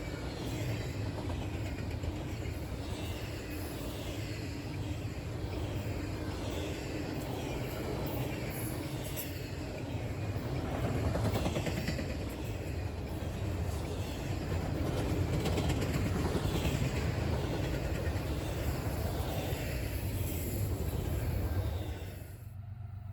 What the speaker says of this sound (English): the train was too loud and you could probably not hear my narrating over this fast-moving train